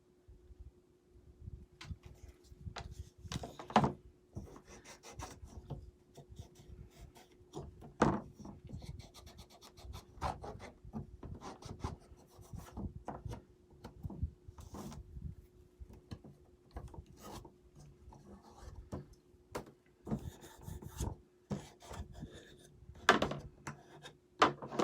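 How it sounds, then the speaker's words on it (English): A painted Dollar Tree craft piece is rubbed down by hand, giving soft, irregular scratchy strokes and light taps at close range, fairly quiet throughout. "make sure you rub it down."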